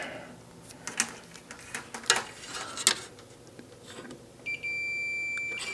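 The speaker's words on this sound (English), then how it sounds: "Let's check continuity on the switch." On the power switch of an old stereo tuner, a multimeter continuity tester gives a sustained high beep, loud and close, after a few quiet clicks and handling taps from the probes, with no speech.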